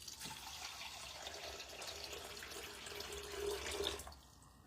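Water runs steadily into a container for a few seconds, a soft continuous splashing that swells slightly before stopping abruptly.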